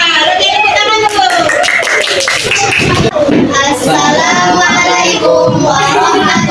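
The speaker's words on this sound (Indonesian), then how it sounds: "Oke, tepuk tangan dulu." A classroom full of students claps together, the applause dense and steady throughout, with voices and chatter mixed into it.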